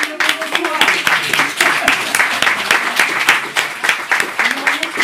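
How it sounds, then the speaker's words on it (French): An audience at a French conference applauds steadily, dense rapid clapping from a sizable crowd filling the room at a strong, even level, with some voices mixed in. "Marion Sigaud, ici présente, que je vous demande d'applaudir pour son courage"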